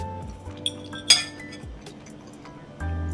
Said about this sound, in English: I'm gonna go dump the bowl